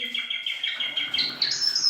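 Four cockatiels kept as pet birds chirping continuously, with overlapping high, bright calls at moderate loudness and no talk.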